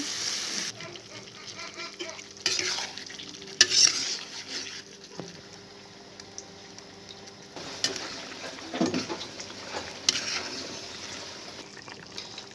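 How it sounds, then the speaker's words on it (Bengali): Chicken pieces stir-fried with spices in a pan for masala chicken, giving a steady low sizzle with scraping stirs and a few louder clatters of the spoon, close by with no talk. "এবার মাংসগুলোকে দিয়ে সুন্দরভাবে আমি কষিয়ে নেব।"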